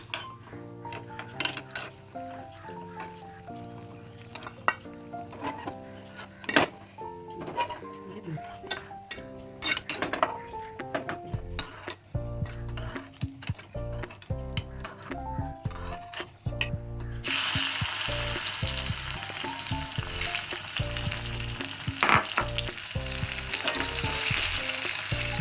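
Pineapple sautéing in a pan until brown for payasam, soft sizzling under frequent metallic clinks and scrapes of a spoon against the pan, with a louder steady frying hiss taking over in the latter part.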